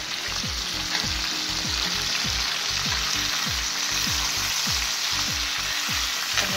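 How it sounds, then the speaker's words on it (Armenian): Colorful bell peppers are stirred into a hot pan with meat and give a loud, constant frying sizzle, while a rhythmic repeating pattern of tones runs underneath throughout. "Այնուհետև ավելացնելու ենք մեր գունավոր պղպերները, այսպես մի լավ տակից գլխից"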